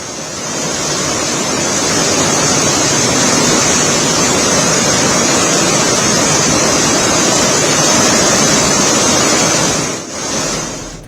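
Floodwater rushes around the Tapkeshwar temple in Dehradun after a cloudburst and heavy rain, a loud, steady broadband roar that stays constant throughout with a brief dip near the end and no voices.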